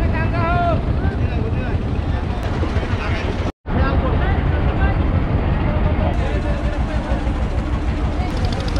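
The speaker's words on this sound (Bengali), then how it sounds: "অনেক লঞ্চ দেখতে পাচ্ছি, ছোট ছোট ট্রলার" Launches and small trawler boats on a river at the Karamjal picnic spot in the Sundarbans produce a continuous low engine drone mixed with wind buffeting the microphone, with a brief dropout midway.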